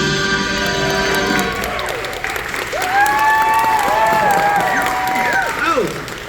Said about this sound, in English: They still clap.